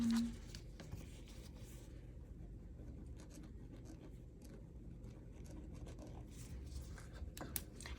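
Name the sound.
writing notes by hand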